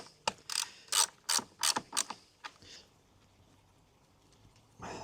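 A hand ratchet tightens screws on a Honda battery box, a quick run of sharp clicking strokes followed by quieter pauses and one more click at the end.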